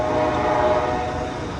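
The Amtrak Coast Starlight passenger train, led by ALC-42 locomotive 306 at Oakland Jack London Square, roars past close and loud with a sustained blaring horn over the rolling rumble of the cars.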